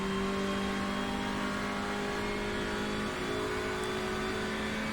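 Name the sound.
Hyundai race car engine revving through the gears, iRacing video game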